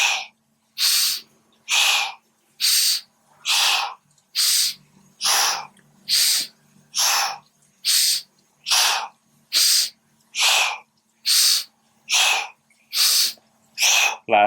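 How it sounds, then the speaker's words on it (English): Breathing exercise: about ten rounds of a nasal inhale followed by a strong shh exhale through the mouth, evenly spaced hissing bursts close to the mic with quiet gaps between. "exhale through our mouth, making a sound shh, like you're telling somebody to be quiet"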